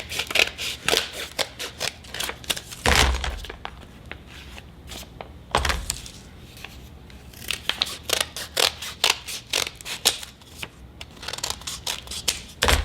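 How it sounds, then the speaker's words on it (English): Scissors cut down a handmade journal cover, producing many crisp, close snips in quick irregular bursts with a couple of heavier thumps and short quiet gaps. "Okay, so I'm just going to cut this down a bit."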